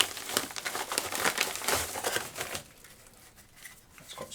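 An envelope of camera accessories is crinkled and rustled up close for about two and a half seconds in busy bursts of crackling, then quiet with only faint small handling noises.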